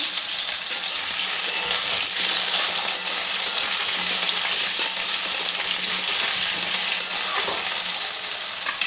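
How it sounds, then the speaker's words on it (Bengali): Potatoes frying in oil in a pan for a cabbage kofta dish give off a loud, continuous sizzle with faint stirring scrapes and no voices. "আলুগুলো ভালো করে ভেজে নিই বন্ধুরা আগে।"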